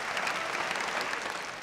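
A crowd at a professional squash semifinal at the Hong Kong Open applauds loudly and steadily, a dense wash of clapping that holds throughout and fades slightly at the end.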